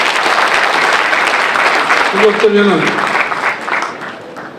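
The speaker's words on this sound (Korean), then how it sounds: "박수 한번 주시기 바랍니다." Applause from an audience at a book launch event for an education superintendent candidate, steady clapping throughout that tapers off near the end, with a voice speaking briefly over it.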